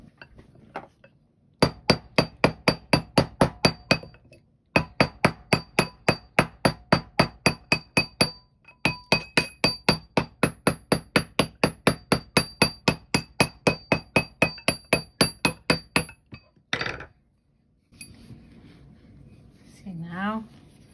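Steady runs of sharp, ringing hammer blows strike a metal washer ring on a mandrel for DIY jewelry, close and loud in rapid even rhythm, broken by brief pauses between bursts, ending with a scrape and light handling.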